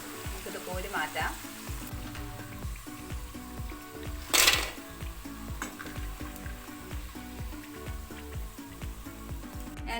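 Banana pieces for sharkara varatti fry in hot oil with a steady, close sizzle and crackle, dense popping throughout and a brief louder burst midway, no talking.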